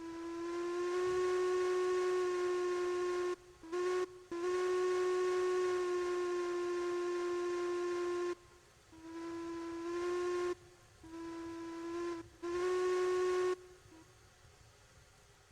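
A steam locomotive whistle in the video game Railroads Online, sounding a loud, steady tonal blast for several seconds, then a series of shorter toots separated by gaps, with no talking.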